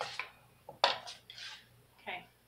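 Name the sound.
whisking homemade ranch dressing in a bowl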